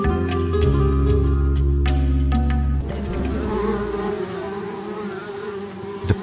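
Bees buzz loudly and steadily up close, a dense droning hum that shifts in pitch partway through and continues on its own without any voices.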